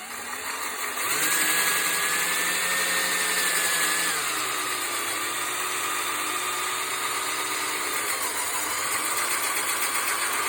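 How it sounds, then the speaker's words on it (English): A 3/4 inch hole saw bores into the plastic dash panel beside a cigarette lighter during a Norden 901 Expedition accessory install, a steady whirring drone from the power drill with a pitch shift midway as the cut progresses. "now I'm taking a 3/4 inch hole saw, and I'm going to put it right here by the cigarette lighter"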